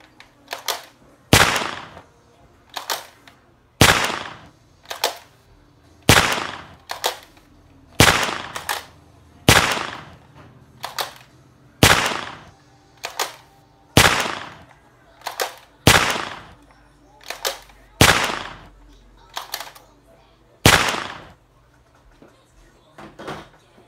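A P99 pistol fires about sixteen sharp, loud shots at a steady unhurried pace, each crack ringing out with a short echoing tail and a few seconds between shots. No one speaks.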